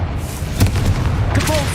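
Confringo spell blast in Hogwarts Legacy, a loud, close booming explosion with a deep low rumble and a sharp burst partway through, layered game effects around it.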